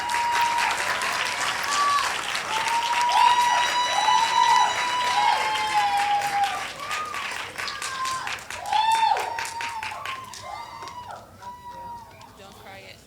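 Steady clapping from a crowd at a senior awards ceremony, with repeated whoops and whistles rising through the applause and a voice cheering among them.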